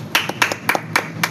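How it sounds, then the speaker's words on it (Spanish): A few isolated, close hand claps ring out in an uneven pattern, five or six crisp double strikes from a small audience in a podcast studio, with no speech over them. "Aplauso, por favor."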